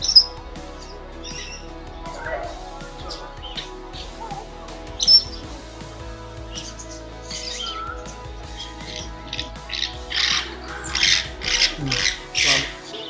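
Small birds and light green and white parrots chirp and squawk in a cage at the Kothwalguda Eco Park near Himayat Sagar, Hyderabad. The overlapping tweets and calls are close by and grow busier and louder toward the end.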